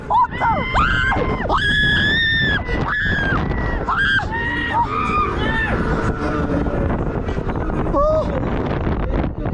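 A person screams loudly and repeatedly while riding a fairground ride at the Sinksenfoor fair in Antwerp, with shrill sustained shrieks over heavy wind rush and ride noise.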